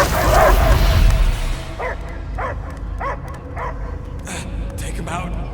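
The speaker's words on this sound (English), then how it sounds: "I hear only barking." Dog barking in the Guardians of the Galaxy video game, a series of five or six evenly spaced barks and yips heard at moderate distance over a low game soundscape, following a louder rumbling burst at the start.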